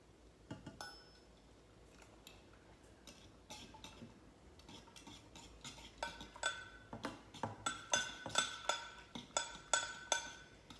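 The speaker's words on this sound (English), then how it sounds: "you have to stir it and whisk it in very quickly" A fork whisks teriyaki sauce in a pot, producing quick rhythmic metallic clinks and scrapes that start sparse and soft, then grow faster and louder toward the end, close up.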